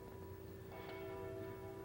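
Church bells ring slow and heavy in the distance, their faint, sustained tones lingering under a soft background hum.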